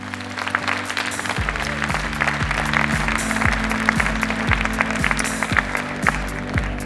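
An audience claps steadily and loudly throughout, a dense wash of applause with no voices on top.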